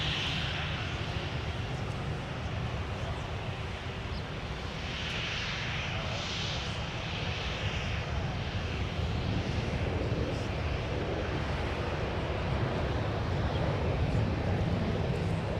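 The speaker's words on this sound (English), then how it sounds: "got another heavy departure coming up." Heavy jet airliner departing from Minneapolis–Saint Paul airport, a broad, steady engine roar with a rising whine partway through, loud and continuous with wind noise across the whole stretch.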